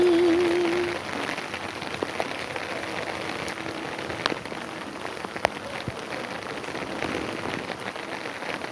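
Steady rain falling on a garden, a dense even patter with a few louder drops, continuing alone after a brief sung melody fades at the start.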